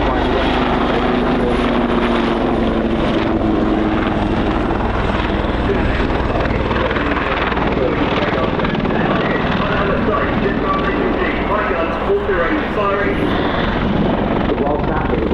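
An Apache attack helicopter flies at a military airshow with loud, continuous rotor and engine noise. An announcer talks over it throughout.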